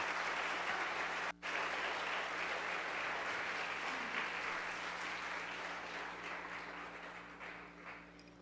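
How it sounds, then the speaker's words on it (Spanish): A church audience claps loudly for the Lord at a worship service, a sustained wash of applause with a brief dropout early on, then slowly tapering off. "¿Le puede dar un fuerte aplauso al Señor?"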